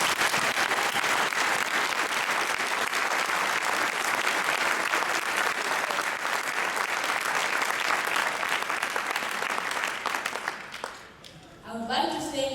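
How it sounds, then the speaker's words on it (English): An audience at a Boys & Girls Club centennial celebration claps loudly and steadily for about ten seconds, a dense wash of applause that thins and fades out near the end, with a faint voice after it. "Give yourselves a round of applause"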